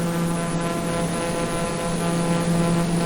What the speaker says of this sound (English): I'm getting used to the sound of the engine, even though it still reminds me of a buzz saw